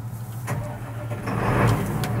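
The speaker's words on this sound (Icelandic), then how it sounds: "Stígur á kúplinguna og startar hérna þessi lykli" Vehicle engine started with a key while the clutch is held down, the starter cranking briefly before the motor catches and settles into a louder, steady mid-pitched idle.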